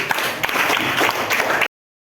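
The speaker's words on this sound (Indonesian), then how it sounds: "Beri tepuk tangan untuk kelompok 1." Classroom applause for a student group during a microteaching informatics lesson, a dense burst of clapping that stops abruptly after about a second and a half.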